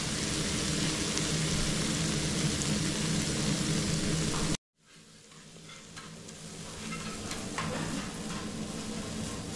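Pav bhaji vegetables fry in butter on a hot griddle with a loud, steady sizzle that cuts out abruptly, then resumes more softly with scattered crackles and stirring.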